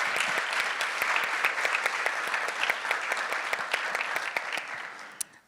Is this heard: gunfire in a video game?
no